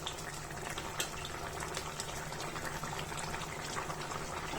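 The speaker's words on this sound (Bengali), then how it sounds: "পানিটা বলক এসেছে" Water comes to a rolling boil in a pan of eggplant and hilsa fish, giving a continuous close bubbling and seething with small pops throughout.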